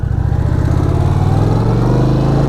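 An Indian Pursuit motorcycle with a liquid-cooled engine idles close by, giving a loud, steady, throbbing rumble that holds evenly throughout with no voices.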